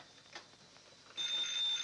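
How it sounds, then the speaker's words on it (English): A telephone rings at night in a 1940s house, a thin high bell trilling faintly at first, then swelling into a louder, sustained ring in the second half, with no voices. "Haven't I told you not to answer the phone at night?"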